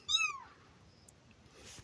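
A single faint meow from a kitten near the start, then quiet background with a few tiny distant sounds.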